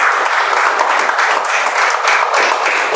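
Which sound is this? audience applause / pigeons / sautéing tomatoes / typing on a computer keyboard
audience applause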